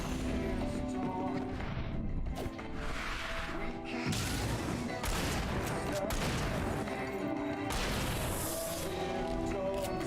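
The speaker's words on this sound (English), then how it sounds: "Shoot the barrel, shoot the barrel, shoot the barrel, shoot the barrel." Dense gunfire and crashing impacts from the Alan Wake video game, shooting at a barrel, come in loud overlapping bursts, with a voice talking over the action.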